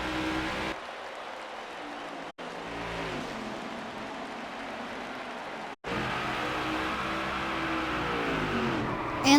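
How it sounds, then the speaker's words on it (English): Race cars lap the New Hampshire track in a continuous roar of engines with a wavering, rising and falling pitch, loud and sustained, broken by two short cuts. "so that you guys can listen into the cars and watch the race"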